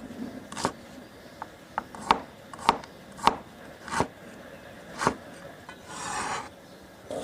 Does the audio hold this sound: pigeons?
no